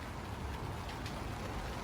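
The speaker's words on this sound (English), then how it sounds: "All right, it just started raining. Not raining real hard." Light rain falling outdoors, a steady soft hiss of drops spread evenly throughout with no pauses and no voices.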